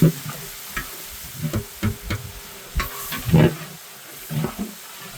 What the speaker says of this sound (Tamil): வெங்காயம் வதங்கிட்டே இருக்கும்போது